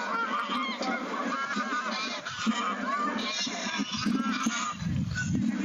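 A flock of geese honks repeatedly at moderate distance, calls overlapping in an irregular stream, with light background chatter from people nearby.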